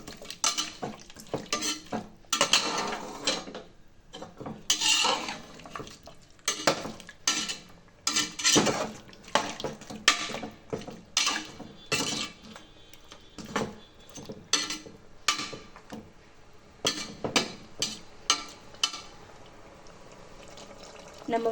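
Chettinad masala is stirred and sautéed in a pan with a spoon, repeated scraping and clinking strokes in irregular bursts over a soft sizzle, close up and fairly quiet.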